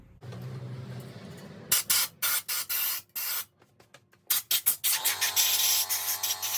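Rusty engine water-jacket parts are blown out with compressed air in a string of sharp, loud hissing bursts, some short and some longer, separated by brief pauses.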